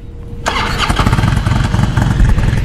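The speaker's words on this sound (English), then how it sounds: "Isla's going to fire it up for us real quick" A 2002 Harley-Davidson Road King Classic motorcycle starts up: after a moment of near silence the starter catches and the V-twin bursts into a loud, close, lumpy idle that keeps running.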